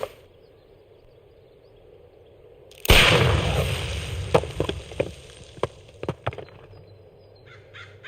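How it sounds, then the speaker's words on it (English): A pistol shot fired at a package in a Sherlock Holmes video game, one sudden loud blast followed by a decaying rumble and several sharp cracking pops as debris settles. "Do you have your pistol? Good. fire at this package."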